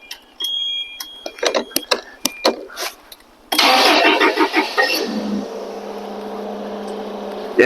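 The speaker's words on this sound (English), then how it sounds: "Yeah, I want to leave it running, warm it up for a little bit." A car engine, a Toyota being tuned up, is cranked with clicks and clunks before catching, then roars up and settles into a steady idle as it warms up.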